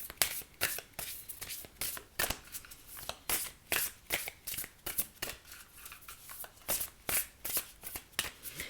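Oracle cards are shuffled by hand in quick repeated riffling bursts, close and crisp, continuing steadily for several seconds with no talk.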